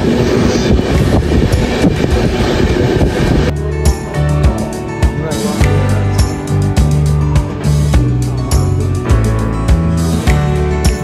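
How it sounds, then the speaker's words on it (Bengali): A passenger train on the Kolkata to Agra line runs into Gaya station, a loud, continuous close-up rumble with rhythmic wheel clatter over the rails and no voices. "আমাদের ট্রেন এসে পৌঁছলো গয়া স্টেশনে"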